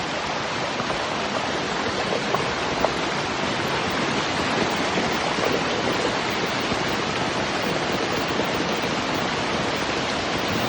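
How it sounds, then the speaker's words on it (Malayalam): Heavy rainwater rushing and churning in a steady, loud, broadband roar during a rainy day, flowing continuously with no breaks and no voices. "ഉരുള് പൊട്ടിയ പോലെ വെള്ളം"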